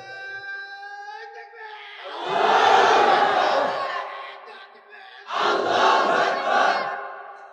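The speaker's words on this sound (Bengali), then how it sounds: "একটা তাকবীর দে, দাঁড়াও তো দেখি গিরায় কি জোর আছে, মারো তো জোরে" A crowd at a madrasa gathering shouts the takbir in unison, two loud, full-throated bursts of chanting voices separated by a short lull, with a sustained tone audible at the start before the first shout.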